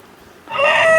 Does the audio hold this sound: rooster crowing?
yes